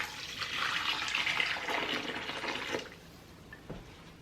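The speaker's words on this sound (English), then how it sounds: "now you're gonna take your boiling water and pour it right on the chicken." Boiling water pours from a container onto raw chicken in a kitchen, making a soft, steady splashing and trickling rush that fades out near the end.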